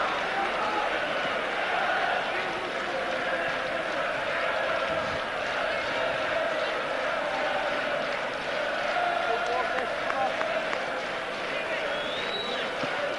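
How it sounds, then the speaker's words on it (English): Restless home football crowd in a stadium at a Shelbourne versus Kilmarnock match, a continuous distant murmur of grumbling and shouting that runs throughout, with a commentator speaking over it. "The home crowd not at all happy, getting slightly restless."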